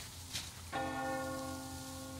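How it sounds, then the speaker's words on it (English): A church bell in the video game Metro Exodus strikes once, clear and resonant, then rings on with a long sustained hum over soft rain-like background noise. "Do you hear that bell?"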